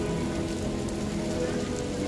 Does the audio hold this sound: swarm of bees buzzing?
no